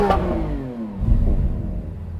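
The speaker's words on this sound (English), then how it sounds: "Now let's have some revs chaosness with the SVJ." A Lamborghini Aventador SVJ's V12 engine blips and settles, a sharp rising rev that falls away in a descending whine before a deep, throbbing burble close by.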